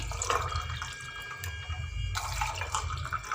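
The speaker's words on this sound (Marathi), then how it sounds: "आणि त्यावरून हे लिंबू पाणी" Lemon water poured over ice into a glass for homemade limbu sharbat, a steady close liquid stream running with a brief break midway, with no talking.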